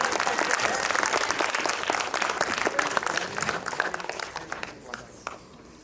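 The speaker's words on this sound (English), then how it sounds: "One more round of applause for Cuphead over here." Audience applause at a retro gaming expo cosplay contest, a dense, steady wash of clapping from a crowd that fades out near the end.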